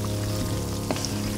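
Sesame balls filled with mung bean paste fry in hot oil, giving a dense, continuous sizzle and crackle at close range with no break.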